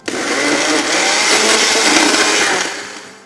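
A blender grinds pear, onion and a cup of water for an LA galbi marinade, a loud, dense whirring that runs steadily for about three seconds before starting to wind down.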